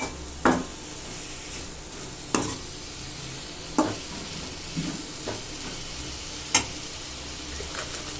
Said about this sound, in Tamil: நல்லா கிண்டி விட்டுக்கோங்க அப்போ தான் நல்லா மசாலா வந்து எல்லாத்துலேயும் மிக்ஸ் ஆகி